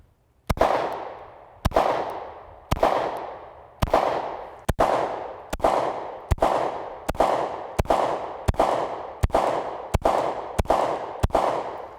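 A Shadow Systems XR920 pistol fires a steady series of about twelve loud, sharp shots on a range, evenly spaced roughly one second apart, each crack trailing off in a ringing echo.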